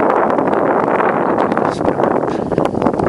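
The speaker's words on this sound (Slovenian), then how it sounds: "In piha veter." Strong wind buffets the microphone at Dužica beach on Pašman island in Dalmatia, Croatia, a loud continuous roaring rumble with gusty fluctuations throughout.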